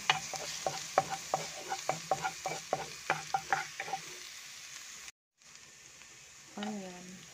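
Garlic fries in oil in a pan, a soft sizzle under a quick series of rhythmic metal spatula taps, then a short break and a quieter sizzle with a brief voice near the end.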